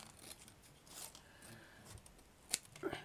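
Scissors snip through ribbon during a French couture ribbon patch craft, a couple of sharp close cuts near the end after quiet handling noise, no talking.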